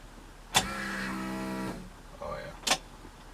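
An electric car fuel pump fitted with new insulators primes with a brief whirring hum of about a second, bracketed by sharp clicks, quiet and close in an otherwise still space.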